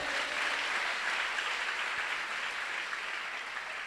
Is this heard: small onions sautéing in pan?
no